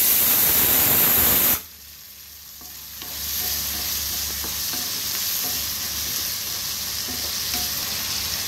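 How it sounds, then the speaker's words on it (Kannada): Tomatoes with salt cooking in a pan after onions, a loud burst of hiss at first that drops to a low steady sizzle with faint stirring sounds. "ಸ್ವಲ್ಪ ಉಪ್ಪು ಹಾಕಿರೋದು ಬೇಯ್ತಾ ಇದೆ ಈ ಟೊಮೆಟೊ"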